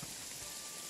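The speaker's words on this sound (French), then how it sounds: "Change de map parce que la pluie, ça fait mal aux oreilles." Rain falls in the Jagged Alliance 3 game, a quiet, even hiss filling a short moment without any voices.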